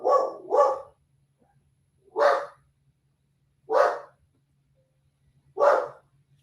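A single dog barks in short, sharp bursts, first a quick double bark, then three single barks spaced about one and a half seconds apart, close and clear against a quiet indoor background.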